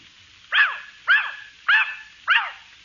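A dog barks four times in an even rhythm, sharp close yaps spaced about half a second apart against a quiet background.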